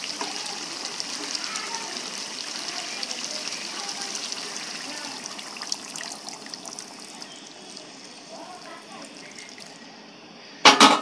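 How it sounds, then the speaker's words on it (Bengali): Hot water is poured from a bowl into a pot of chicken curry, a steady broad rush and trickle running for most of the stretch, easing off near the end before a sharp clatter. "এই জলটা এবারে আমি এতে ঢেলে দেবো।"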